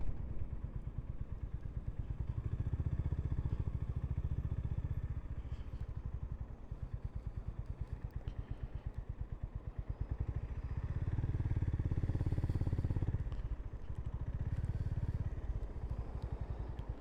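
A Honda GB350 motorcycle thumps along on a road with a steady, quiet engine beat that swells louder for a few seconds near the end, and no one speaks.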